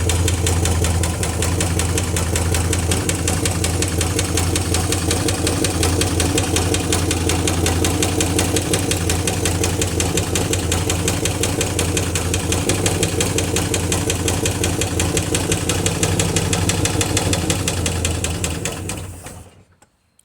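A 1957 Chevy engine idles with a fast, even mechanical clatter, loud and close, holding steady for about twenty seconds before cutting off abruptly at the end.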